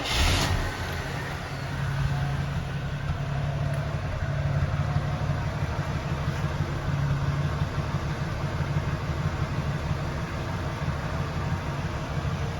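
A 1982 AMC Eagle engine fires up from cold with a brief burst at the start, then settles into a steady, even idle hum with a low, constant tone, moderately quiet and unbroken for about twelve seconds.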